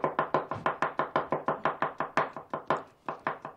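A knife chopping through a large pile of onions on a board in a film scene, fast steady rhythmic thuds, close and distinct, roughly five or six cuts per second with no talking.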